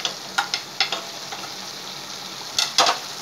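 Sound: spices sizzling while frying in a pan

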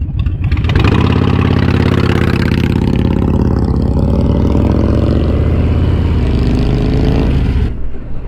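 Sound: Harley-Davidson Iron 883 motorcycle engine riding

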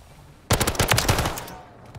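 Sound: gunfire in a shooter video game

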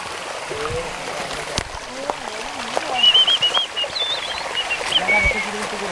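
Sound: hidden forest waterfall stream near Chillán, Chile

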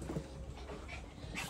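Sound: Chihuahua dog whimpering and panting

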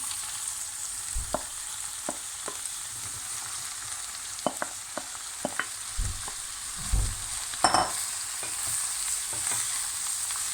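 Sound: mushrooms and peppers frying in pan

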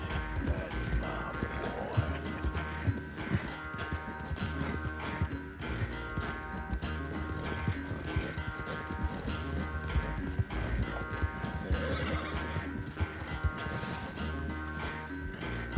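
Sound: horse galloping in Red Dead Redemption 2 video game

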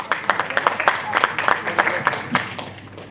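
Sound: audience applauding at poetry award ceremony

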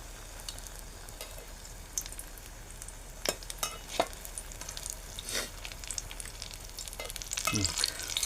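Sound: shiralyachi bhaji frying in oil, being flipped

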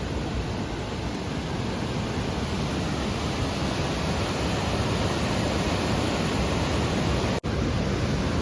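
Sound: water rushing from opened dam

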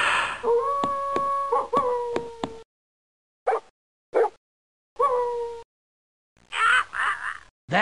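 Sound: dog howling as if singing, from a Schoolhouse Rock video game

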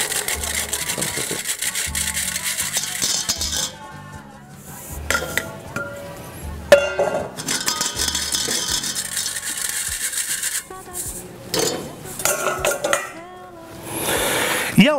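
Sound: mixing flour in a bowl by hand

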